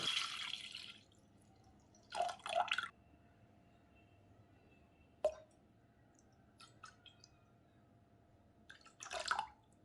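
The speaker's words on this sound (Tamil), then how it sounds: "இப்போ ஃப்ளேமை நம்ம லோ டு மீடியமில் வச்சுட்டு லெமன் ஜூஸை கொஞ்சம் கொஞ்சமாக சேர்த்து மிக்ஸ் பண்ணி விட்டுறலாம்" Lemon juice is added bit by bit to milk boiling on a low-to-medium flame to make paneer, with a few quiet, separate splashes and drips over a faint background hiss.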